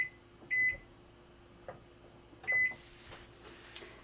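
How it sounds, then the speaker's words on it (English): Two short electronic beeps from an oven timer being set, spaced about two seconds apart, moderately loud and close, with faint kitchen rustling in between. "I'm going to set a timer for 35 minutes"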